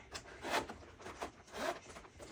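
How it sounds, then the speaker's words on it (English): A zipper on a small pocket of a new leather briefcase is pulled in a few quick rasping strokes, close and fairly quiet, with no one speaking. "Zipper seems pretty strong."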